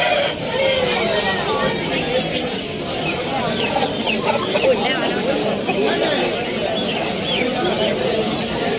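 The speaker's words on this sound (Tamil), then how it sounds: "சண்டைக்கோழியில் ஒரு சேவல் ஒரு பட்டியலில் வந்துருக்காங்க" Fighting roosters at the Ponmalai weekly pet market, a white cock among them, with clucks and fowl calls rising through a steady crowd chatter and background voices.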